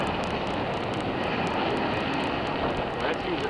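A jet rumbles as a broad, steady roar during takeoff at Tampa International Airport, a long run down the runway, with people talking nearby.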